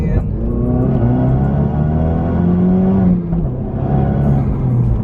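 A Ford Focus RS engine revs after a downshift, a close, steady mid-pitched drone that rises and falls slightly over a few seconds with some road rumble underneath.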